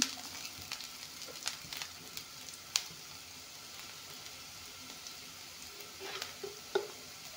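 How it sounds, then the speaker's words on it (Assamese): Ingredients for a carrot recipe fry in a pan with a soft, steady sizzle, broken by a few light clinks and scrapes of stirring; quiet and close, with no talking. "এতিয়া অলপমান ভাজি ল'ম। এয়া চাওক, ভালকৈ ভাজি ল'লোঁ।"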